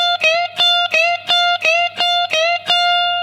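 An electric guitar plays the second line of a song. Seven evenly spaced strummed chord stabs ring out loud and close, each one decaying briefly, with no talking.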